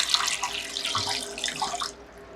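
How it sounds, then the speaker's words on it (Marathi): A short, steady splash of water pours into a mixer jar with tomato carrot soup residue close by, then cuts off abruptly, leaving near silence. "थोडं पाणी घालायचं"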